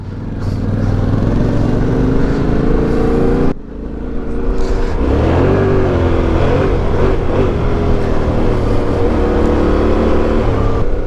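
A 900 motorcycle engine running loud and close while being ridden on a mountain plateau trail, a continuous throbbing drone with a brief dip in revs midway before it pulls again.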